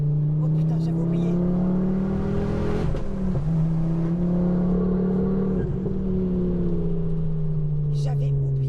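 A Ford Focus RS MK2 engine roars loudly and steadily as the car accelerates, its deep drone rising and falling through gear changes, with brief shifts in pitch around the middle and voices faintly present.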